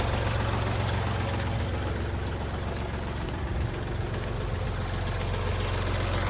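A tractor engine idles steadily and close by, a constant low rumble with a deep throb that holds level throughout and has no gaps.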